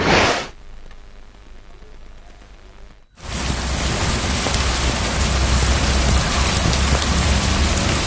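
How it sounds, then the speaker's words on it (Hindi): Heavy rain pours steadily and loudly in Karachi after a short lull, a dense continuous hiss of water striking surfaces. "पानी पानी कराची में फिर बादल बरसने लगे।"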